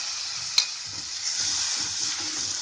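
Cumin, coriander powder and ground spice paste frying in butter in a kadhai, a steady close sizzle with faint low stirring scrapes and one sharp clink early on.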